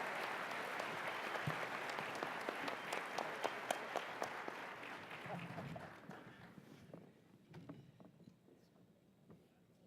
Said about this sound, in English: Give a big round of applause to the governors-elect.